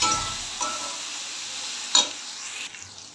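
Ground paste of cumin, coriander, peanuts and black pepper frying with potatoes in a pan, a bright close sizzle that fades slightly, with a couple of stirring scrapes and a light clink.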